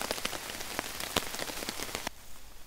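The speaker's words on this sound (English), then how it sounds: "The sunshine and the rain coming down." Rain falls on a green forest campsite in sunshine, with dense close pattering and sharp individual drops hitting a surface, then it drops to a softer steady hiss near the end.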